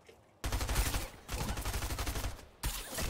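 Bursts of rapid automatic gunfire from a shooter video game rattle out in three dense volleys separated by brief pauses, loud and close, with no talking.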